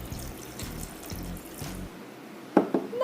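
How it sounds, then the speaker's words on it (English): Water from a pre-filled cup is poured into a mixing cup while making glitter slime, a brief close splash and trickle after a quiet stretch, with no talking. "Gonna go ahead and put a little bit of water in there."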